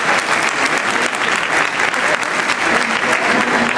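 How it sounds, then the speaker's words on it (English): Opening-ceremony audience at the Royal Ontario Museum's Iranian Heritage Day applauding the museum, a loud, dense and steady burst of clapping throughout, with faint crowd noise beneath. "we should all give the Royal Ontario Museum a round of applause"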